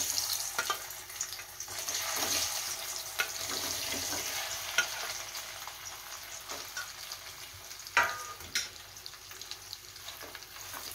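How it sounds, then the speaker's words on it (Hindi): Potatoes frying in hot mustard oil in a kadhai, a soft hissing sizzle that swells after they go in, with occasional spoon scrapes and clinks, fairly quiet and with no speech. "तो तेल मेरा गर्म हो गया है, उसमें हम ये आलू डाल देते हैं।"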